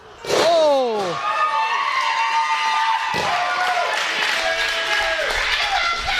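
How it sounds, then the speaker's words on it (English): A wrestling event crowd cheers and shouts loudly after a sharp slam, the roar swelling at once and holding steady for several seconds, with a commentator's voice running beneath it. "This crowd here loving every single minute of this."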